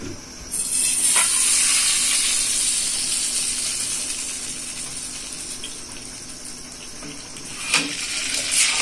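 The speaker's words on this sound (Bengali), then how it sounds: "আবারও দ্বিতীয় স্টেপে আপনাদের পিঠাটা ভেজে দেখাচ্ছি।" Pua pitha, a fluffy ball-shaped fritter, frying in a heated tiffin-carrier lid: a steady hissing sizzle that is loud at first and eases a little, with a couple of sharp utensil clinks near the end and no talk.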